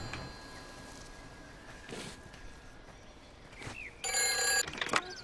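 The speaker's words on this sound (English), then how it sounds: "Telephone's ringing." A telephone rings in a video game set in the village of Yalton, a faint electronic ring bursting in late over quiet ambient background, brief and moderately loud.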